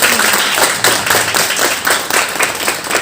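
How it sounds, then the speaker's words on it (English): A warm round of applause for someone speaking at a breast cancer awareness event, with close, loud individual claps from a small crowd in an uneven rhythm. "Let's give Catherine a warm round of applause."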